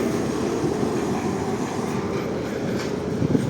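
Continuous low rumble and rattling of a number 1 tram rolling along rails nearby in Lviv, steady throughout with no speech.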